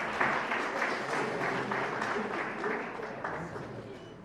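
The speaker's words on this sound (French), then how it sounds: "Applaudissez, s'il vous plaît." An audience applauds at a Burundian journalism award ceremony, with a dense, even patter of clapping from many hands, fairly close and sustained before gradually thinning toward the end.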